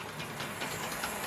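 Hornby toy train set with a Great Western brake van running on track, giving a steady close rattling whir with faint rhythmic clicks and no talk.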